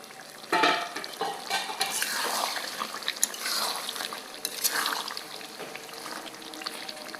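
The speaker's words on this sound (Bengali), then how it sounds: "এটাকে আমি 3 মিনিট পর্যন্ত কষিয়ে নেব, তেল বের না হওয়া পর্যন্ত" Chicken wings being sautéed and stirred in a pan until the oil separates, a continuous close sizzle with repeated scraping and clattering strokes of the spoon, fairly loud and free of speech.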